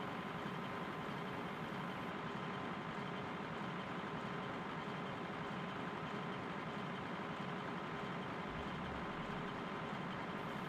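A tractor engine rumbles steadily in a farming video game, a continuous low idling drone that stays loud and even throughout with no talk over it.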